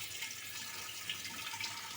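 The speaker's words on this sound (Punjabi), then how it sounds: "ਆਪਾਂ ਹੁਣ ਘੜੇ ਨੂੰ ਧੋ ਲੈਨੇ ਆ ਪਾਣੀ ਪਾ ਲੈਨੇ ਆ" Water trickles and splashes steadily into a clay pot, a faint, continuous pouring sound with no voices.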